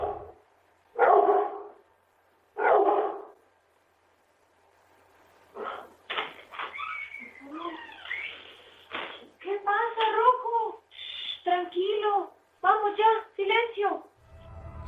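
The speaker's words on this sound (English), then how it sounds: "He clearly saw the same thing we do and started barking, trying to protect his owner" A dog barks in a living room, several sharp close barks early on, followed by a longer stretch of busier vocal sounds that could include further barking or yelping.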